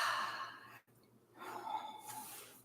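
A long, breathy exhale during a guided breathwork exercise, loud and close, broken by a short pause before another airy breath follows.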